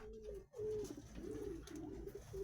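A pigeon recovering from paralysis coos softly and steadily at close range, a low rolling call repeated through a quiet room with no talk.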